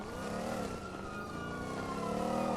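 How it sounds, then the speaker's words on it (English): Loud car engine in the GTA RP game, a steady sustained rev with a rising and falling pitch, close and continuous with no talk over it. "can you please park this stupid fucking car? These things are so fucking loud."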